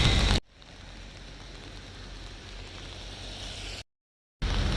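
Steady rain falls outdoors on an uphill walk to school, an even hiss of drops on wet surfaces, broken by abrupt cuts at the start and near the end.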